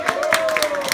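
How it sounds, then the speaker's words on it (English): Brief, close applause for the class of 1979 at a reunion, quick overlapping claps over a steady tonal hum, lasting only about a second. "Let's give the class 79 applause."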